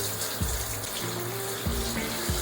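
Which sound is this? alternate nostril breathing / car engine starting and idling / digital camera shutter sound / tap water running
tap water running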